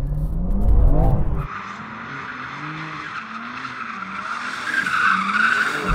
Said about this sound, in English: the best way to acquaint myself with the car is to drift it before doing anything else